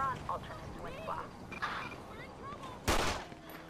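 Gunfire in a GTA police-mod shootout with an armed suspect, a burst of shots landing late and loud after a stretch of radio chatter and voices.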